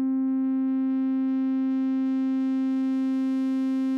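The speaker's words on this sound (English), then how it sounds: "You can hear some harmonics are being added." A steady electronic sine tone from an OP-1 Field synthesizer hums without a break, growing brighter and buzzier as distortion piles harmonics on above it. No voices are present.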